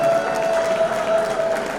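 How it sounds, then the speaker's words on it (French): Guests at a wedding in the USA clap together in a brief, dense burst of applause amid crowd murmur, loud and close for under two seconds. "Des applaudissements."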